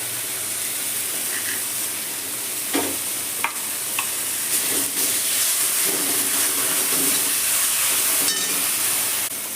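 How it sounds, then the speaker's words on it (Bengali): Malabar spinach frying in a pan with a ground mustard-poppy seed and green chilli paste, a steady loud close sizzle and hiss with occasional scrapes and clinks of stirring. "এবার এর মধ্যে আমি দিয়ে দেবো আমি যে সর্ষে পোস্তটা বেটে রেখেছিলাম কাঁচা লঙ্কা দিয়ে সেই সর্ষে পোস্ত বাঁটাটা"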